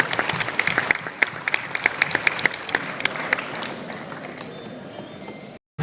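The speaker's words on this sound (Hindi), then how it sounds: "एकदम जोरदार तालियों के साथ सभी विजेताओं का हम मनोबल बढ़ाते हैं।" An audience applauds the award winners at the Sant Ishwar Samman 2025 ceremony, with loud, distinct individual claps over a steady patter that thins out and fades before a brief cutoff.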